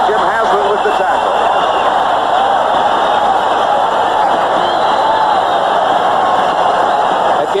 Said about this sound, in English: Gave the Jet fans something to stand up and cheer about